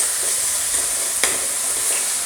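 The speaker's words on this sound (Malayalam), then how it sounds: "അപ്പോൾ നമ്മൾ സവാള പെട്ടെന്നൊന്ന് വഴന്ന് കിട്ടാൻ വേണ്ടിയിട്ട് കുറച്ച് ഉപ്പ് കൂടെ ഒന്ന് ആഡ് ചെയ്ത് കൊടുക്കുക നമുക്ക്" Sliced onions sautéing with a pinch of salt in a pan for a Kerala-style prawn curry, a dense, even hiss of sizzling oil up close with one faint knock of a utensil partway through.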